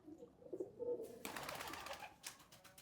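Bukhara pigeons in a coop coo faintly with low murmurs, then a louder broadband rustle of wings or movement takes over near the end, with no talk.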